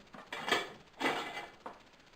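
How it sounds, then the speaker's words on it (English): A plastic ladle handled among kitchen utensils gives off a few brief clattering knocks, three separate taps close by and fairly quiet, with no talk over them. "So this is a plastic ladle."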